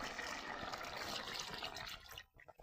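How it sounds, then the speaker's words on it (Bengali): Water splashes and gurgles into a cucumber and fish curry, a faint continuous pour that stops abruptly near the end, leaving a few small drips and clinks. "কষান করা হয়ে গেছে, এখন ঝোলের পানি দিয়ে দিব।"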